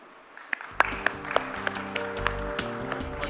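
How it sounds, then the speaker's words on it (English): Scattered applause from a conference audience for a panel discussion, with sharp individual claps standing out over a low sustained hum and music-like tones, moderately quiet. "please raise a warm round of applause for our panelists"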